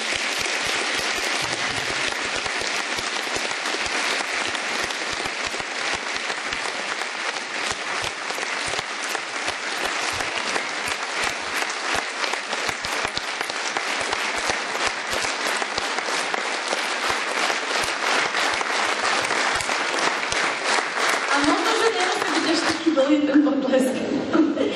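A seated audience at an interview event gives sustained, vigorous applause, dense and even for most of the stretch, with a few chuckles, before the clapping thins out and a voice begins speaking near the end.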